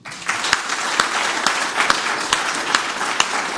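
Loud, dense applause from an audience at a Leiden volunteer awards ceremony as the Leidse Rechtswinkel is honored, continuous clapping close by with sharp individual claps popping out.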